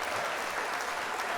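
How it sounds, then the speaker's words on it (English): A brief, even wash of crowd applause, a dense hiss of many hands clapping at steady loudness with no distinct voices on top. "A round of applause for Island with this theory."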